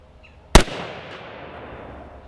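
A single sharp, loud report from an HK rifle fitted with a drum diopter sight, fired at a target, followed by a long, fading echo and low rumble.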